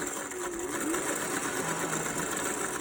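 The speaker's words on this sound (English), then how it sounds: "I actually sew right in between so that the nose wire can fit right through." A sewing machine stitches a channel into a fabric face mask for a nose wire, a steady close whirring hum with a fast even needle rhythm running throughout, with no talk.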